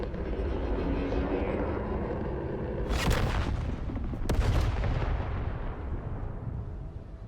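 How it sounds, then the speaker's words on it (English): In The Outer Worlds 2 video game, a protectorate transport ship explodes in the sky. A loud, rumbling roar builds, then two sharp blasts break through it with a heavy rumble trailing after. "Oh, that little explosion?"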